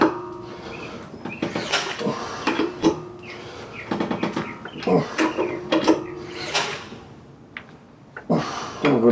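A breaker bar on a 3/4 inch socket works a wheel lug nut loose during a flat tire change, giving a series of irregular metallic clicks, clanks and ratcheting knocks close by.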